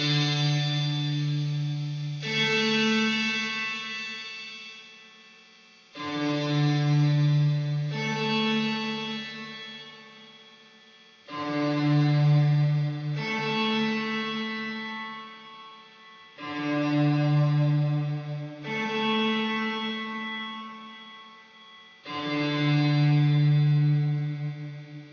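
Guitar chords through an Eventide Blackhole reverb pedal with its high EQ turned all the way up, washed in heavy reverb with bright treble, played as five sustained strums in a slow, even rhythm, each ringing out.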